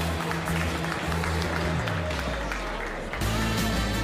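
Crowd applause greets Joshua Filler as 2025 European Open pool champion, steady sustained clapping across the hall over a low droning musical tone that shifts pitch partway through.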